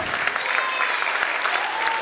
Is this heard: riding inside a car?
no